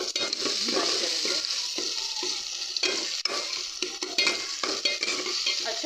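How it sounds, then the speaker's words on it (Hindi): Ginger garlic paste with ground and chopped green chillies sizzling and frying in a pot for chicken biryani, a steady close crackle broken by repeated stirring and scraping strokes, with no talking. "इसके बाद अदरक लहसुन का पेस्ट और धड़ा मिर्च पीसी हुई और ये अपनी सब्ज़ मिर्च कटी हुई इसके अंदर डालूंगी और इसकी अच्छी सी भुनाई करेंगे।"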